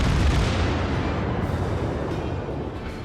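Naval guns of the Kongou battleship fire a broadside in the World of Warships video game, a loud booming blast that rolls into a long rumbling decay.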